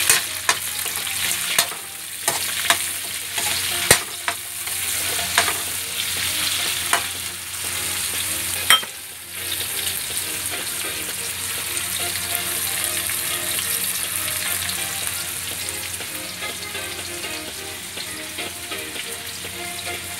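Onion, chili and tomato fry in a pan with a steady close sizzle, broken by a few scraping stirs early on, then a continuous even hiss.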